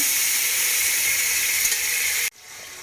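Steady, bright hiss of beef pieces sizzling in a hot oiled pan, loud and continuous, cutting off abruptly near the end to a quieter background.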